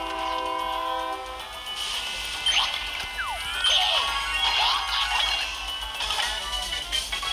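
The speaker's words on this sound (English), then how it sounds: "Okay, here comes the train." Train from the Mario Kart Tour game on Android passing with a blaring horn, a loud, sustained rumbling pass with horn blasts sliding in pitch across the middle of the sound.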